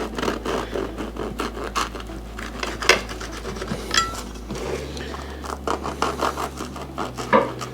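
A knife or cutter works through a 72% hydration pizza with repeated crisp crunching and scraping strokes against the crust and tray, close and irregular, with no talking.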